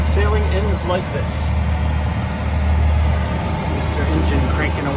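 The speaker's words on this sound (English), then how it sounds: "Engine cranking away, but it was pretty good for most of the way." A steady low boat engine drone runs throughout, constant and fairly loud, with faint wind and water noise over it, heard aboard a sailboat.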